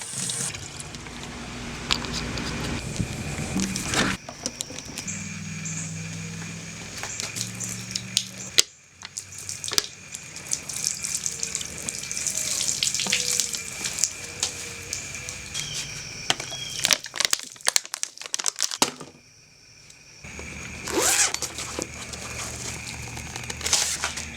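Water is poured and splashed over an e-bike, running and spattering in uneven bursts with crinkly plastic-like rustles, brief pauses between pours, close and fairly loud.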